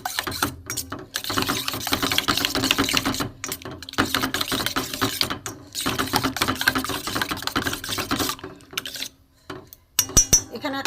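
Eggs whisked with a little salt in a bowl, a steady run of quick clinking and tapping strokes that carries on for most of the stretch with only brief pauses.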